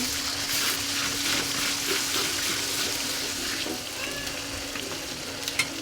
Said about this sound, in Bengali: জিরা বাটা দিয়েছি দেড় চামচ আদা বাটা দিয়েছি দেড় চামচ নাড়া দিয়ে নেব